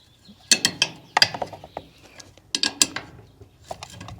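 A 7/16 wrench working a tight bolt loose on equipment gives a series of sharp metallic clicks and ratcheting creaks in bunched bursts, close by and alone.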